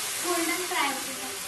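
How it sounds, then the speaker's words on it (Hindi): Round golden fritters frying in hot oil give off a steady, close, hissing sizzle that swells slightly midway and continues throughout. "फ्राई करना है"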